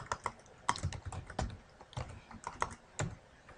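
Light, quick keystrokes on a computer keyboard, soft and close, in an irregular burst of clicks with no talking.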